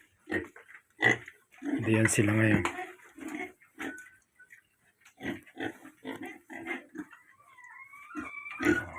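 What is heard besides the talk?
pigs grunting in their pen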